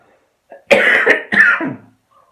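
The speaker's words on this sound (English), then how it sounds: "Sorry, I have a really bad cough." A person with a bad cough lets out two or three harsh, throaty coughs in quick succession, close and loud against a quiet room, with a faint throat-clearing edge.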